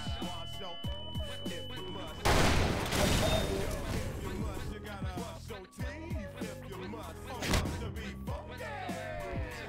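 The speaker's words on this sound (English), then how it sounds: "Flashbang." A flashbang grenade detonates in Half-Life 2 with a sudden loud burst, followed by a sustained hissing blast that lasts a couple of seconds amid game noise and clattering effects.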